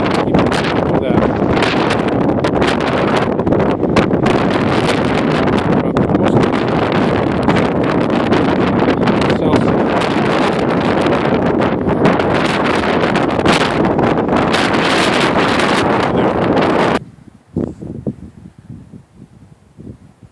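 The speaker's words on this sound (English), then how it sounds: "Here I'm able to get out of the wind a little bit." Strong wind buffets the microphone high on Mount Bailey, a loud, unbroken rumbling roar that fills the air for most of the stretch, then drops away abruptly near the end as shelter is reached, leaving only faint gusts.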